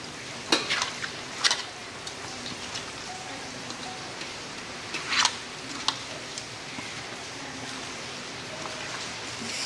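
Steady rain falls outdoors in a constant hiss, with a few sharper drip and splash clicks standing out close by.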